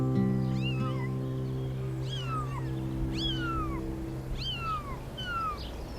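Cats meow and caterwaul in a series of five or six drawn-out, sliding cries over a steady low hum, close and fairly loud.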